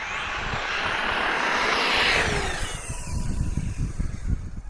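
A small RC car accelerates hard on a patched, glued tire that balloons as it spins up, giving a loud, continuous whining roar that swells and then holds, with an uneven, fluttering low rumble underneath.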